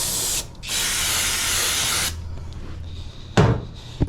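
Aerosol brake cleaner sprayed onto the bare metal hood of a 1976 Chevy K10 truck, with two close, loud hissing bursts, the second long and steady, followed by a brief clunk.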